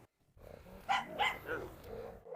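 A dog in a large pack being fed chicken drumsticks gives a few close, moderately loud barks and yips in a garden, short bursts in quick succession.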